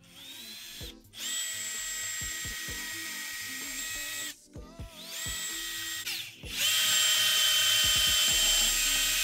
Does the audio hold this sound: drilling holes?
yes